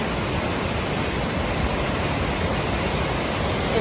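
Bow Falls, a modest waterfall in the Canadian Rocky Mountains, roars as a steady, loud, broadband rush of falling water, close by and unbroken, with no voices.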